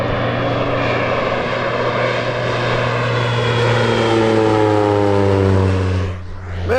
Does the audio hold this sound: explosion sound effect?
no